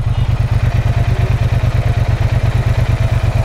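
A Triumph Bonneville T120 motorcycle with its stock exhaust idles close by, a loud, steady, even pulsing beat that holds unchanged throughout with no voices.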